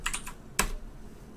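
A few quick clicks of typing on a computer keyboard, soft keystrokes close by, a short cluster followed by one sharper tap, with no speech.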